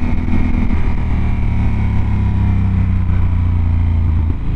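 A Yamaha 1200 Super Tenere motorcycle engine running at steady high revs, a loud continuous drone with a deep throbbing note throughout, close by.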